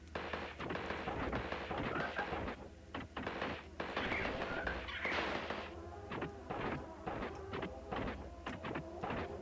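Missile shots from a cat piloting a mech suit in the side-scrolling game Gato Roboto, a dense run of sharp synthetic bursts and blasts firing in rapid, uneven succession over a busy electronic game soundtrack.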